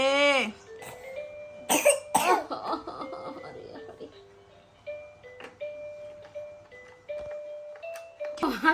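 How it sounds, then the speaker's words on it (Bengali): A man coughs several times in harsh, close bursts near the start, while a high singing voice and melodic electronic tones carry on around the coughs. "কাশি রে"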